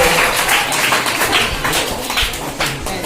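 Sustained clapping from an audience at a primary school girls' education and school entry festival, dense and fairly loud with scattered sharper claps, no speech over it.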